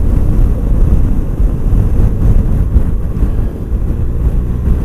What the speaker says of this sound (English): the wind trying to rip my head off right now because it is pretty windy now